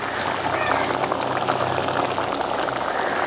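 Onion sambar boils vigorously in a pot, a dense, continuous bubbling and simmering that holds steady and close throughout.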